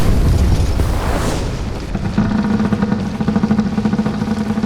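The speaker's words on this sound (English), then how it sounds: "You've heard a massive explosion from above." A massive explosion erupts overhead as a deep, loud boom with a broad rumbling burst, then settles into a steady, droning hum with rhythmic pulsing that carries on to the end.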